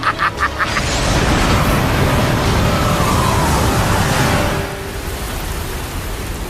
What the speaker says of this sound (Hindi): बारिश तो बहुत बढ़ गई है।